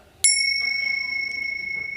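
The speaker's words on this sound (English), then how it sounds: "The bells of mindfulness, you may have heard that phrase before." A travel-size mindfulness bell gives a single clear ding, struck once and left to ring, its bright sustained tone slowly fading with a gentle shimmer.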